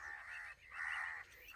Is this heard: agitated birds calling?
yes